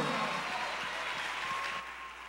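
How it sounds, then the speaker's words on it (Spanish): A church congregation claps for the Lord during a devotional service, a soft, steady wash of many hands heard at a distance, easing slightly quieter toward the end. "Fuerte el aplauso para el Señor."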